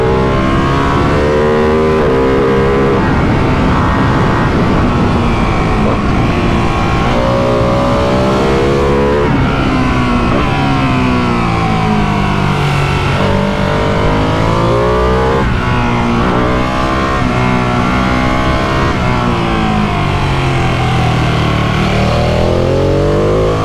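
A Ducati Panigale 959 sportbike accelerates hard, its engine rising through repeated revving sweeps and gear changes, loud and continuous from start to finish.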